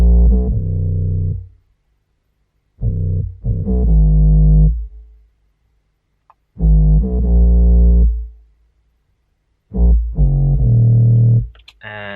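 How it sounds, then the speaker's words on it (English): Short, raw, heavily distorted 808 bass notes in a melodic drill beat, playing alone in loud clipped bursts with gaps of silence between them. "this is the name of the 808, and it's a kind of a raw one, a lot of distortion going on"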